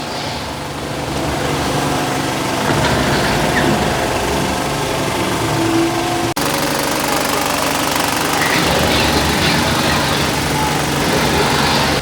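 An IMAX 70 mm film projector runs continuously in a cinema projection booth, producing a loud, steady mechanical whirring and rattling drone that holds constant throughout.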